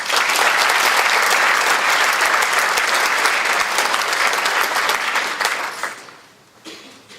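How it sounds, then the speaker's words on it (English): Audience applause for young men at a scholarship awards ceremony during a 100th Founders Day event, a steady, dense wash of many hands clapping that fades out in the last second. "Let's give another round of applause to all these young men for their hard work and accomplishments"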